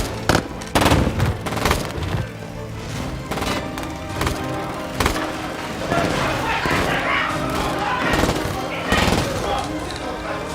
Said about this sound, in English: we started to hear gunshots